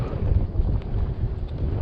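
Strong wind gusting across a fishing pier, roaring as heavy low rumbling buffets against the microphone, steady and close throughout the short stretch with no voices.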